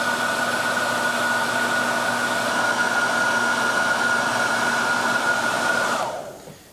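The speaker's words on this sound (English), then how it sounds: "All you do is just heat it up with a hairdryer" A hair dryer blows steadily with a loud, constant whir and hiss while heating chair zig-zag springs, then cuts off abruptly near the end.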